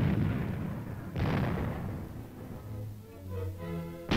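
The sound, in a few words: tank main gun firing armor-piercing tracer rounds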